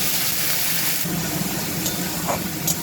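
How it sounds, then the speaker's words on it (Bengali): Turmeric, chili and cumin spice paste sizzling in a pan with a splash of water, a steady frying hiss with soft stirring scrapes and a few brief clinks, close and moderately loud. "এবার সামান্য জল দিয়ে আমি মশলাটাকে কষিয়ে নেবো"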